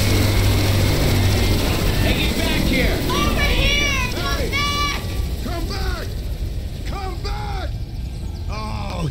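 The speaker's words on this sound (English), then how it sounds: "That chopper's heading to the mall across town." A helicopter in the Left 4 Dead 2 video game drones low and fades into the distance as it flies away toward a mall across town, partly masked by chirping, bleating game sounds.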